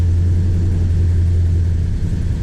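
A 1965 Plymouth Satellite engine, fully warmed up, rumbles loud and close with a deep steady low drone as the throttle is released, with no one speaking.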